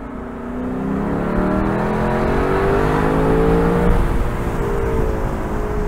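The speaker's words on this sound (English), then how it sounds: "it gives us a direct shot to the V8, which is one of the high points of Lexus, the 5-liter V8" Lexus LC 500 Convertible with its 5-liter V8, a loud exhaust note rising steadily as the car accelerates, heard up close from the open cabin with no voices over it.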